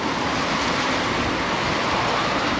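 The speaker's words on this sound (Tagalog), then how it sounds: "tapos malakas na yung hangin" Strong typhoon wind blows steadily and loudly, a dense, unbroken roar with a surf-like rush that holds throughout without letting up.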